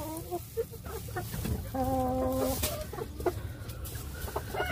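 Rhode Island Red hen of the Maximus line clucking noisily and steadily near the nest with two small eggs, repeated close clucks with no talking.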